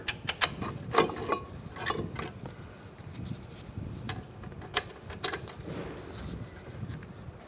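Bolts being threaded by hand into a wheel hub bracket on a 2007–2013 Mini Cooper, a series of close metallic clicks, taps and ratcheting scrapes in an irregular rhythm, with no talking.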